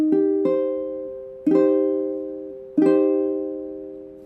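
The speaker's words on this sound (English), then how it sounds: "a minor chord in first inversion would sound like this" A minor chord in first inversion, third, fifth and root, sounds in a clean, instrument-like tone: an opening onset then three struck chords at roughly 1.3-second intervals, each ringing and slowly fading; close and alone.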